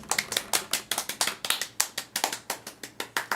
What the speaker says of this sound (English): Random clapping.